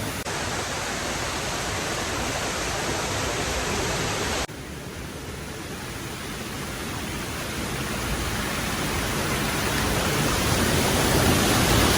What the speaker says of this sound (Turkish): akan suların çıkarmış olduğu e, yankılı ses